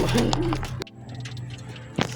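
Racing pigeons being readied for a race give soft low coos close by, a few brief murmuring calls with a sharp click or knock partway through.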